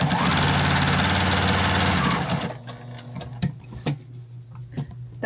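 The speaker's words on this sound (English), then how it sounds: "So we're not going to sew exactly on the line." Sewing machine stitching a patriotic fabric flag, running loud and steady with a continuous motor hum for about two seconds, then stopping and leaving soft handling clicks and thumps.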